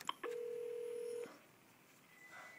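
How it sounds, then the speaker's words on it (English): A Merlin II business phone system gives a short electronic tone burst as a cordless extension rings, followed by a quieter faint tone in the background. "You can hear the cordless ringing in the background."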